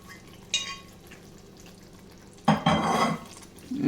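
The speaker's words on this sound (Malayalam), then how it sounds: "ഇളക്കി മിക്സ് ചെയ്യാം." Capsicum masala with onions is stirred in a pan, with a brief scrape at first, then a louder burst of spoon-on-pan clatter and sizzling near the end. No one speaks.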